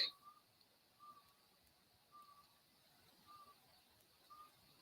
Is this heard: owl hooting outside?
yes